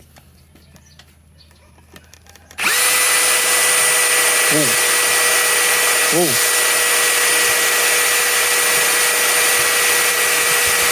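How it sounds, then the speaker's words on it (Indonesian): A Tekiro XV 20V cordless brushless drill with a 4 mm iron bit boring into 1 cm thick iron, starting abruptly after quiet and holding a loud, steady high-pitched whine to the end, with a short exclamation and two brief squeaks along the way. "Selanjutnya kita akan mengebor besi, ketebalannya ini 1 cm ya, menggunakan mata bor besi ukuran 4 mm."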